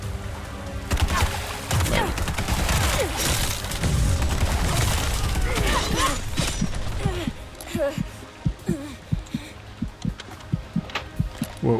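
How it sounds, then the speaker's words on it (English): Gunfire and blade slashes against enemies in the action shooter Bright Memory Infinite, a dense loud barrage of shots and impacts for about seven seconds, then sparser sharp hits and swipes, with someone talking throughout. "You can shoot you can shoot enemies, you can slice them, as you can see."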